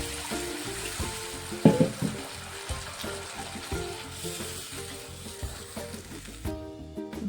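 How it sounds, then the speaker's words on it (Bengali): Egg curry gravy bubbling in a pan, a steady close simmer and sizzle with soft rhythmic bubbling and one louder clatter midway, no voices. "ঝোলটা ফুটে উঠেছে"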